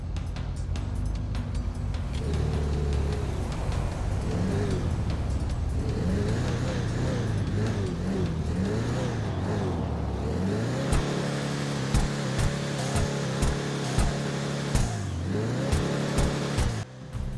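A Declasse Impaler muscle car in GTA revs its engine again and again, loud close rising and falling revs ending in sharp repeated throttle blips over idle rumble.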